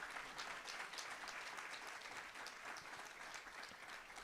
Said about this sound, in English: Can we give a big round of applause for California State University,